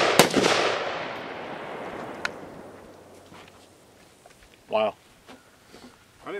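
A single loud gunshot from an IWI Tavor 7 .308 bullpup rifle cracks at the start and rings out in a long decaying echo outdoors, followed later by a brief voice.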